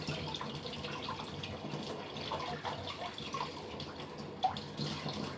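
A cold kitchen tap runs while a leek is rinsed to wash grit from between its leaves, a continuous splashing hiss of water with small drips and clatters, fairly close and steady, no one talking.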